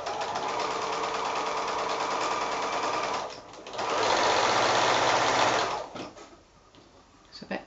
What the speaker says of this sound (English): We're sewing the right sides together, and that's all ready for me to sew now.